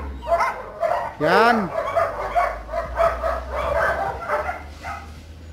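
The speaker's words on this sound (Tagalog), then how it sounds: "'Yun, ang maraming aso." Several dogs barking and yipping inside a kennel in Baguio City, the barks coming in overlapping bursts close by while a person talks over them.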